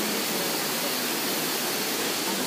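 Aşıklar waterfall in Dikili, İzmir, pours into its pool with a loud, dense, constant roar of rushing water, close and unbroken.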